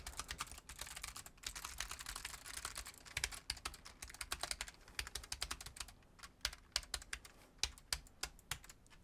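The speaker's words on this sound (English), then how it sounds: "I'll do a quick typey test, but please bear in mind, this is a Logitech G915 and it's using blue clicky switches" Rapid clicky typing on a Logitech G915 keyboard fitted with blue clicky switches, dense bursts of sharp keystrokes that thin into separate spaced clicks toward the end, close and fairly quiet with no voices.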